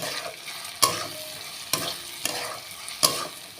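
Potatoes and onions with turmeric fry in a pan, with a steady close sizzle broken by four sharp scraping stirs of the spatula spaced about a second apart.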